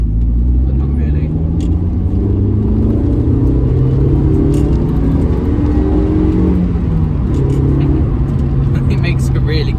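A 2004 Suzuki Ignis Sport's engine drones continuously while driving, with shifting pitch as revs rise and fall, heard loudly from inside the car with a voice talking over it.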